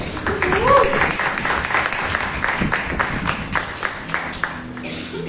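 A church congregation claps together during a sermon, a thick, continuous wash of hands that fills the space from start to finish, with a voice rising briefly over it near the beginning.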